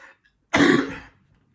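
A single loud, close cough, sharp and raspy, standing alone against silence.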